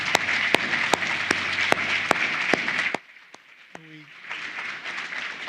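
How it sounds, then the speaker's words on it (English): Audience applause at a Legal Services Corporation anniversary forum, a dense burst of clapping with sharp individual claps that cuts off abruptly midway, followed by quieter room noise and scattered sounds. "Please join me in another round of applause for Representative Scanlon."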